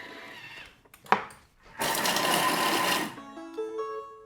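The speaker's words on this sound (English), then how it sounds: "Turn speed select to 5, so I guess we're going to chop." A Thermomix kitchen machine chopping at speed 5, a loud whirring rush of about a second and a half, preceded by a few clicks and knocks and followed by a short falling electronic tone sequence.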